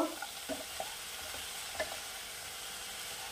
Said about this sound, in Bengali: দিয়ে দিচ্ছি গোলমরিচ গুঁড়ো, আবার একটু নাড়িয়ে নেব